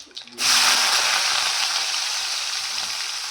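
Onions drop into hot oil and burst into a loud, steady frying sizzle that holds close and even to the end, with only a brief quiet moment before it starts.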